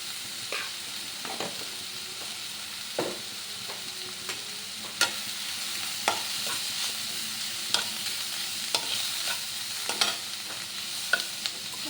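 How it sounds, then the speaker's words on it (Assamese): Garlic and onion fry in a pan with a continuous crackling sizzle, broken by regular sharp clicks and scrapes of a spatula stirring against the metal. "ৰচুনখিনি পিঁয়াজখিনি অকণমান ফ্ৰাই হৈ থাকিব।"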